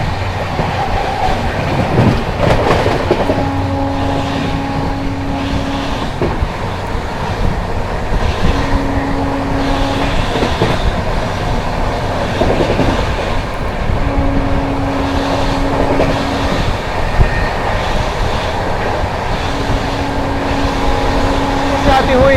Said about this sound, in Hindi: new Delhi Sealdah Rajdhani express